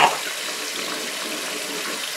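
Bathroom tap running steadily: a loud, close, even rush of water pouring into a sink, opening with a brief splash and then holding a constant hiss.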